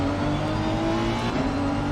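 A race car engine in a racing video game drones loud and steady with tonal whine, as a car runs alongside on the right, without voices over it.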